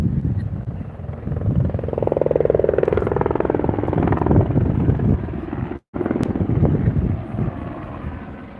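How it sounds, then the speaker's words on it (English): A large helicopter passes overhead on a sunset outing in Los Angeles, a loud, close, continuous rotor roar with gusty wind buffeting the microphone, swelling in the middle and easing off toward the end. "Nothing like a large helicopter flying over"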